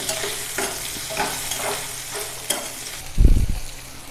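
Eggplant pieces sautéing in a hot pan with salt, soft sizzling under repeated spatula strokes, ending in a louder scrape and clatter near the end.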